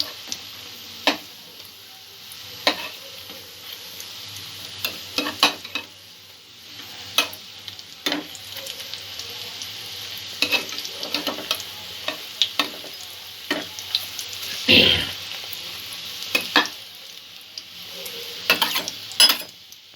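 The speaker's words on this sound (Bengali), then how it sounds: "পকোড়াগুলো এইভাবে এপিট ওপিট করে একটু লাইট ব্রাউন করে ভেজে নিতে হবে।" Chicken pakoras fry in oil as pieces are turned over, a soft ongoing sizzle punctuated by light clicks and taps of a utensil against the pan, with one louder bubbling flare midway and no speech.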